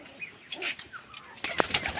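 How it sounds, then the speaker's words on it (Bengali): Soft cooing of pigeons close by, a few low throaty calls with a brief flutter of wings and light rustling. "এই যে বাচ্চাগুলো, এই যে চলো, এই যে পায়রাগুলো"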